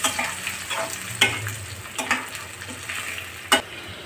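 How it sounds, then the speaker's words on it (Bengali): Bay leaf, clove, cinnamon and cardamom fry with onions in a pan, a soft continuous sizzle punctuated by a few sharp scraping stirs. "এটাও পেঁয়াজের সাথে একটু ভেজে নেব।"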